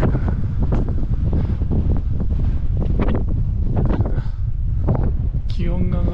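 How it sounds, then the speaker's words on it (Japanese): Strong wind blasting across a mountain ridge above 2000 metres in freezing cold, a loud, constant roar buffeting the microphone, with brief faint voices near the end. "思いっきり風吹いてっから。"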